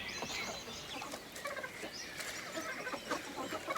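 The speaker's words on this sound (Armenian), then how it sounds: "Ինչ ես կղկղում։" A hen clucks softly at a rural home in a few short, irregular bursts, quiet and close, with no talking over it.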